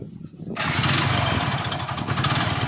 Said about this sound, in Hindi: चलिए हम बाइक को स्टार्ट करके इंजन का साउंड चेकअप कर रहे हैं।